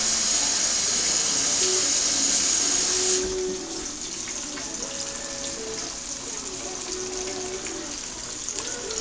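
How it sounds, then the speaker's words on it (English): Running tap water pours steadily into a kitchen sink while hands are washed, with a loud hiss that drops a little partway through and continues as a constant splashing rush. "I'm just washing my hands"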